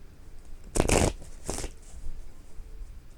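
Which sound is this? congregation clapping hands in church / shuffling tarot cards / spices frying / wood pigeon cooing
shuffling tarot cards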